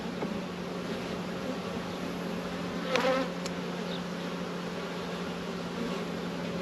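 Honey bees buzz steadily around an opened hive during a New Zealand beekeeping inspection, making a constant close drone with one brief louder pass near the middle. No one speaks.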